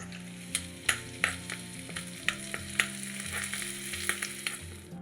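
Curry leaves and tempering are stirred into a pineapple curry, a bright continuous sizzle broken by repeated sharp scraping and stirring clicks, close and steady, no talk.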